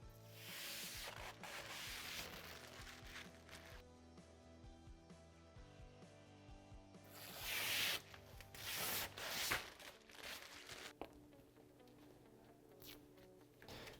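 Faint, steady rubbing and crinkling as protective film is peeled from both sides of a Can-Am Maverick Sport UTV rear window laid on a blanket, with a louder burst of scraping partway through and no voices.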